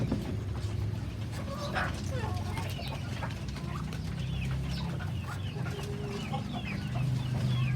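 Ducklings and chicks in pens cluck and peep steadily while feeding, a dense farmyard chorus of small fowl calls up close over a constant low background hum.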